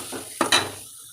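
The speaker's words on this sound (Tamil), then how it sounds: "இதை வந்து ஒரு 2 செகண்ட் அப்படி ஃப்ரை பண்ணிக்கணும்" Chili, coriander and turmeric powder frying in a pan for a Tamil fish curry, with two short, close sizzling bursts and faint utensil clinks, all within about a second.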